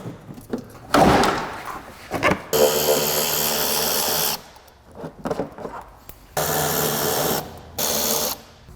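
Power drill backing screws out of a rusty Honda Element, several bursts of buzzing motor whine separated by pauses, with clunks and handling knocks between runs, close and loud.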